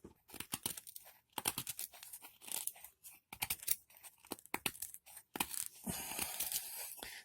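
A Bestech Swordfish folding saw, model BG03B, cuts through a piece of hard maple wood with close, rhythmic rasping strokes, each pull a sharp burst followed by short pauses, with no talking.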